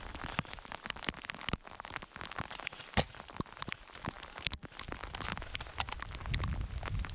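Rain falls outdoors at midsummer in Ketolanperä, a steady dense patter of drops striking surfaces, with scattered sharper taps close by and a low rumble building toward the end.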